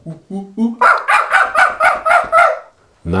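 Someone imitates a monkey in a workshop, opening with a few rising hoots and then breaking into a run of about seven loud, evenly paced whooping calls, close up, before a short pause.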